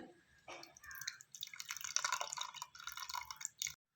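Strained tamarind water for a tomato rasam pours into a cooking pot, a close, fairly quiet trickle and splash that builds and stops abruptly, with no talk.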